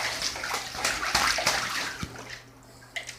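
Bathtub filling as water runs from the tap, a steady close rushing hiss with a pet goose splashing in it, giving occasional sharp slaps and sloshes before the flow eases near the end.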